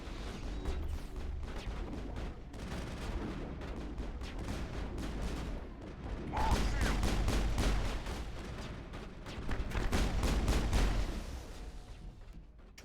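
Gunfire in the Mass Effect video game, a dense run of rapid shots and impacts rattling across the whole stretch, swelling louder in the middle and toward the end, with no talk over it.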